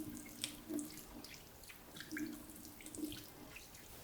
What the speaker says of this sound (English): simply pour boiling water over the top of the faucet like this.